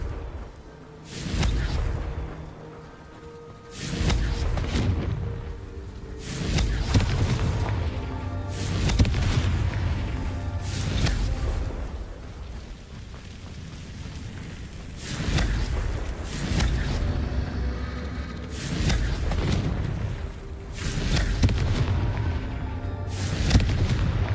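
Repeated Confringo blasting-spell explosions in the video game Hogwarts Legacy: a series of loud, booming bursts roughly every couple of seconds, each with a sharp crack and a rumbling tail over continuous game sound.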